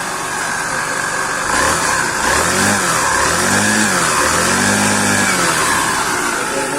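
A Moto Gusto Rapid moped engine with a fault runs roughly and struggles to take throttle. The close, loud idle rises and falls in uneven revs with a wavering, sputtering tone.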